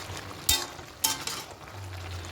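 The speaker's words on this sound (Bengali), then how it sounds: "আবার একটু ভালো করে এভাবে করে খুন্তি দিয়ে নাটিয়ে নেব" A spatula stirs a thick prawn curry with spinach and gourd leaves, two distinct scraping strokes standing out over a soft steady sizzle in the pan.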